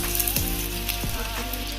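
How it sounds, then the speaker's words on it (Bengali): Chopped onions hit hot oil with spices in a pan while an egg and potato chop is being made, giving a steady, close sizzle with occasional crackles. "এবার আমি দিয়ে দেব পেঁয়াজ কুচিগুলো।"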